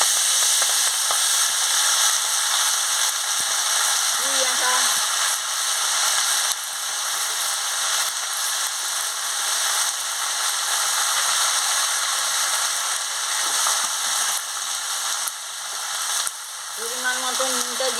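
Kundri, potato and brinjal frying together in hot oil, a loud continuous sizzle and crackle that holds steady throughout, with occasional light clinks of a utensil against the pan.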